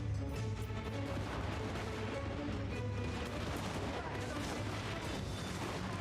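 Artillery pieces fire in a fantasy battle in Total War: Warhammer III, dense rumbling booms and crackling blasts rolling continuously at a steady loud level, with a faint voice mixed underneath.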